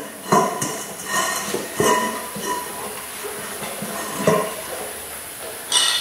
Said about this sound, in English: Now I will take the beadlock off and try to remove the tire from the rim.